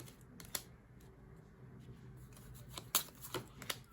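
Tarot cards being drawn and handled, soft quiet papery flicks and slides, a few distinct snaps near the start and a small cluster toward the end, close and faint with no talk.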